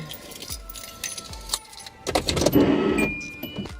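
Keys jangle in short, bright bursts inside a warm parked car, followed by a louder rush of noise as the car is started, all close and without talking.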